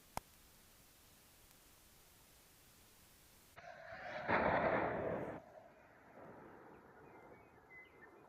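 A .308 Tikka hunting rifle fires a single shot outdoors in bad weather, a sudden loud blast followed by a rolling echo that fades into wind and rain.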